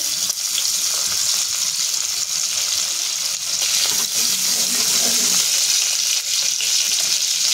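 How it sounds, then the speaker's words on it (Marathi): Bay leaves, cinnamon, chopped green chili and garlic sizzle loudly in hot oil for fish soup, a dense, even crackling hiss that holds steady throughout with faint stirring beneath and no talk. "आता ह्याच्यामध्ये मी 2 तेजपत्ता, दालचिनी, बारीक चिरून घेतलेली मिरची आणि बारीक चिरून घेतलेला लसूण टाकून घेणार आहे।"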